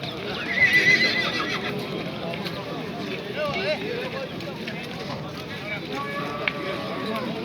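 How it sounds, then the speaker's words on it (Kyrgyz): A horse whinnies at a crowded livestock bazaar in Gulcha, with a loud neigh early on and fainter whinnies later, over hoof clops and steady background chatter from people nearby. "Өтө чоң ат экен. Бийик."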